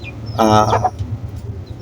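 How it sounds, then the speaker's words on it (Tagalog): A single short, squawking cluck from a fighting rooster, close and fairly loud, with a low background hum. "Kumuha tayo ng dalawang palabang manok."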